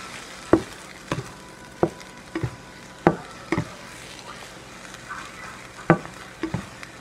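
A hen of the woods mushroom scramble fries in a pan, soft steady sizzle under irregular sharp clacks and scrapes of a utensil stirring, close and fairly quiet, no talking.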